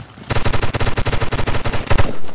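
Rapid automatic gunfire in a Pipeline tactical shooter match, a dense burst of about twenty close, loud shots fired in steady rhythm with no talk over it.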